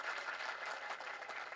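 An audience at a Hindi-Urdu mushaira poetry recital claps steadily, a dense wash of applause held at an even level throughout with no voices over it.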